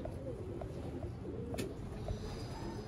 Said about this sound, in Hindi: ये कबूतर है जनाब